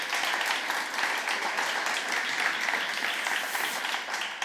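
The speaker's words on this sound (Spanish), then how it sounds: "Un aplauso, por favor." Dense audience applause fills a hall before a talk, a steady thick wash of many hands clapping that holds at an even level throughout.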